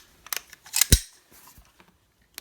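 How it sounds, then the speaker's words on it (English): An AR-15 rifle bolt being locked to the rear while clearing a double-feed malfunction, a few sharp metallic clicks and one heavier clack, close and alone. "So I just locked the bolt to the rear"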